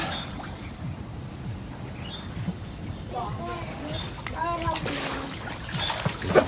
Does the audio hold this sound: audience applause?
no